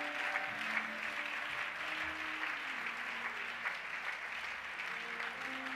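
A church congregation applauds in steady, sustained clapping that fills the room for several seconds, with voices faintly mixed in.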